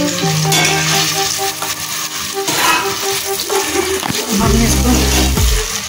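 Finely chopped onions frying in a pan for Bihari-style qeema give a loud, steady sizzle with occasional clinks and stirring scrapes throughout.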